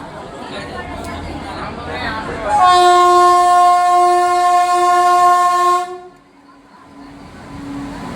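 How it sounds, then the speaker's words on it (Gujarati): A train horn sounds loud and steady for about three seconds at a junction station in Ahmedabad as the train arrives, with people chatting around it before and after the blast. "ટ્રેન આવી ગઈ છે"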